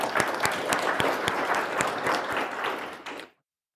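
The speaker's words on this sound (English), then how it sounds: "Clap it up." An audience applauds veterans at a talent recruitment talk, a dense burst of many hands clapping at full strength that ends abruptly after a little over three seconds.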